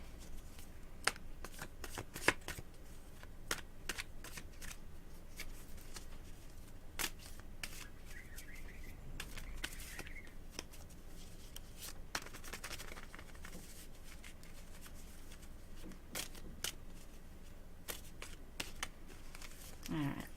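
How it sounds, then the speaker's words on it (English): A deck of cards being shuffled by hand for a psychic reading, quiet riffling and patter repeating steadily throughout, close and soft, with no speech. "I just want to really make sure that they're shuffled good, because I always have a worry that they're not shuffled enough."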